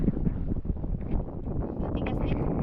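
Gusty wind buffeting the microphone in a steady low roar by the sea on a windy day with big waves, with faint rustling and no clear speech.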